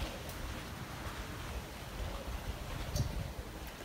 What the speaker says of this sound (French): Ça lève le vent.